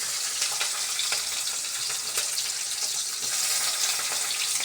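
Capsicum sizzling in a hot pan for egg rice, a steady close frying hiss with faint crackles and occasional stirring, no talk.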